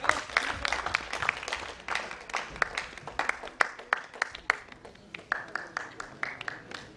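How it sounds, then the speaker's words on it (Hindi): Scattered applause from a theatre audience welcoming guests onto the stage at a play production, with irregular claps rising and falling, moderately near, with faint background voices. "ताकि दर्शक भी उनको तालियों से उनका स्वागत कर सकें।"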